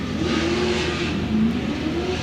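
A Formula Drift Pro 2 drift car accelerates off the start line in qualifying, its engine giving a steady, mid-pitched roar that climbs as it revs, heard at moderate distance against a broad noisy background.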